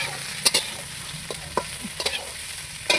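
Cauliflower, beans, potatoes and spring onions fry in a pan over a wood fire, with a loud close sizzle broken by several brisk stirring scrapes and taps of a spatula, and no speech.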